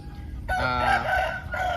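A Thai fighting cock crows loudly and close, one full harsh crow with a raspy drawn-out tail, no talking.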